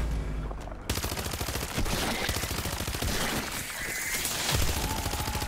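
Rapid automatic gunfire from a fast-killing weapon in MW3 Zombies, a dense continuous stream of shots after a brief quiet start, loud and close with no talk.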